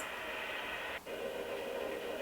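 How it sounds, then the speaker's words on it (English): Steady, even hiss of white noise from a sound machine playing continuously, with a brief dip and a slight shift in tone partway through. "and just some white noise"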